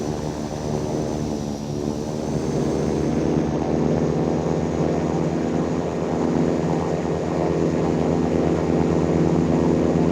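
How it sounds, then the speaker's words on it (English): A propeller airplane takes off on runway 26 in the Infinite Flight game, its engine a steady, loud, continuous drone that holds throughout with no voices. "November 584 Golf Alpha Bravo Yankee is taking off runway 26, remaining in the pattern"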